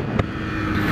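A Honda Fan 150 motorcycle being ridden, its engine buzzing steadily up close with wind rushing over the microphone and a brief bump partway through.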